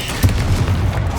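Loud low boom of a Confringo blasting spell in Hogwarts Legacy, a short heavy explosive thump with a rumbling body, close and alone over brief battle noise.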